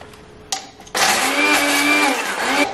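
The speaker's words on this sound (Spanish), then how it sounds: "En otro cacharro vamos a mezclar las aceitunas negras y un chorro de aceite. Y vamos a triturar también." Blender in another container whirring loudly as it purées black olives with a splash of olive oil, starting after a brief clatter and running steadily to the end.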